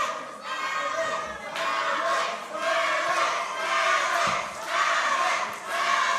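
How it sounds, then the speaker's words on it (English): A wrestling crowd at an independent championship match chants in loud, rhythmic waves, repeated swells of unified voices filling the arena. "This crowd chanting for Alex."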